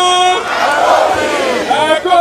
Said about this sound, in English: a large crowd of people who constantly chanted solidarity songs in support of the re-election bid of Governor Godwin Obaseki